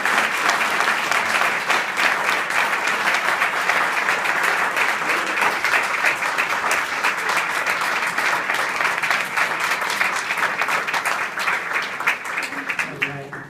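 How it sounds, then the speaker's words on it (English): Sustained audience applause at the 2016 Walk for Life ceremony in Boca, dense even clapping from a sizable crowd that carries on loudly for over ten seconds before tapering off. "Give him a round of applause."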